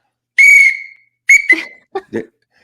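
A referee whistle blown close and loud: one long shrill blast, then a second long blast followed by a quick double toot and a final short chirp, with no talking.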